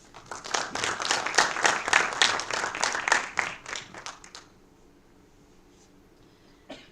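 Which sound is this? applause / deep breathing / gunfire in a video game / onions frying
applause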